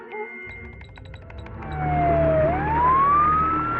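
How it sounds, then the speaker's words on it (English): A cartoon fireboat siren winds up out of game-like music and construction clatter, a single loud wail that dips and then rises steadily. "It's the fireboat siren."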